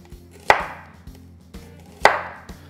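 A knife cuts thin slices of red onion on a cutting board, with two sharp, distinct chops about a second and a half apart and faint softer taps between them.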